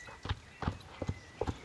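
Hooves of a Brabant horse trot in a video game, giving four soft, evenly spaced double-thud beats that stay faint and steady.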